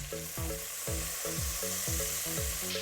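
Minced garlic sizzling and frying in melted butter in a pan, a loud continuous crackle with rhythmic scraping strokes as it is stirred, close up and without talk.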